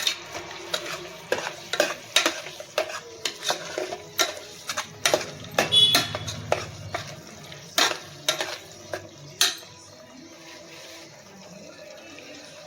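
Masala with green chillies being stirred and sautéed in a pan for chicken biryani, a steady run of scraping spatula strokes over a soft sizzle, close and alone with no talk.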